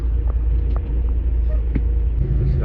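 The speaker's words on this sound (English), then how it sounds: "is how bad Nashville traffic has gotten" Road traffic in Nashville, a low steady rumble of passing vehicles heard close by from inside or beside a flatbed truck, continuous throughout with no clear voices.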